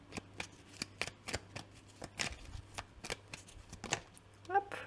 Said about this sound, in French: je me concentre une seconde pour battre les cartes